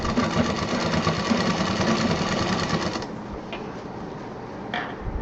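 A sewing machine stitches a big shopping bag, with a loud, close, rapid mechanical whir that runs steadily and then slows and thins out near the end.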